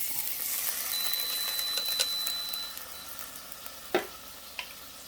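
Garlic sizzles in a pan for a salmon soup, a soft steady frying hiss with a few light clinks and stirring knocks near the end.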